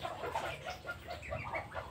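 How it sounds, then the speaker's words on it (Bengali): Chinese ducks on a farm make soft, overlapping quacking and chattering calls from a flock, steady and faint, with no talking. "আপনারা দেখছেন আমার হাঁসগুলো"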